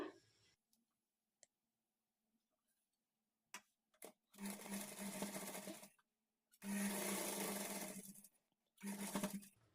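A sewing machine stitches blouse fabric in three short bursts, each a rapid close mechanical whirr, separated by near silence with faint clicks as the cloth is adjusted.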